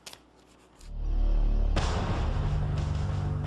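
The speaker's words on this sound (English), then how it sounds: "And that's a gunshot." A single gunshot rings out in the open after a short quiet stretch, a sudden loud bang followed by a heavy, sustained low rumble that lingers through the rest of the moment.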